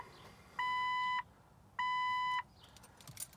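The ignition warning of a 1999 Jeep Cherokee Classic sounds two evenly spaced electronic beeps, each lasting about half a second, fairly clear over a quiet background.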